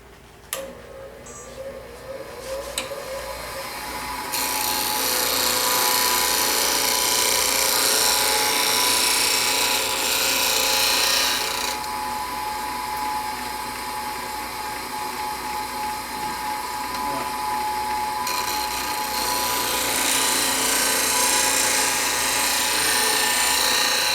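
A bench grinder sharpens a woodturning tool and throws sparks, a loud, steady grinding whine that swells in after a few quiet seconds and keeps going without a break.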